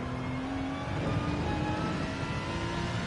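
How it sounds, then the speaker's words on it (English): A car engine under braking in Gran Turismo 7, a steady droning engine note with a slowly shifting pitch, continuous and fairly loud, with no voices. "the engine braking is definitely better with this car"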